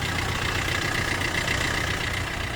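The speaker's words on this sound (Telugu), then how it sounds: "ఇంజన్ సౌండ్ ఎట్టుందో అవన్నీ చూపిస్తా చూడండి." A 2016 Maruti S-Cross ZETA car idles with its bonnet up, giving a close, steady, even engine rumble that holds unchanged throughout.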